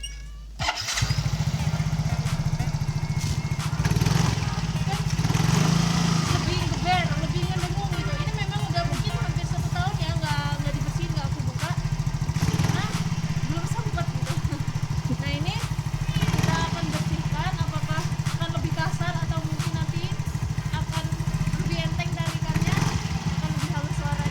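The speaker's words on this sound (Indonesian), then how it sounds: "coba kita buktikan dengan suara si motor ini" An older automatic scooter with a dry-type air filter that is dirty runs at a close, steady idle with a slightly rough, pulsing engine note after a brief start, while someone talks over it.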